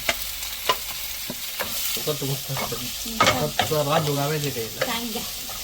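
Freshly cut onions fry in a pan for Mangalorean-style mussels sukka, with scraping stir strokes and a soft sizzle under a few tonal sounds.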